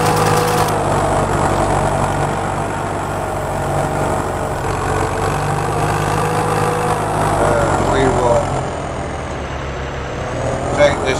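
A grass-trimming machine at work on a wet farm, its steady droning engine loud and constant, with a slight shift in tone toward the end.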